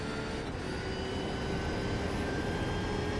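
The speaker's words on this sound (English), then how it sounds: "You get more transmission whine and a thinner sound with this car." Porsche race car engine in the iRacing sim, a thin, steady drone with a high transmission whine running over it, loud and continuous with no pauses.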